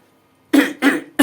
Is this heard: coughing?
yes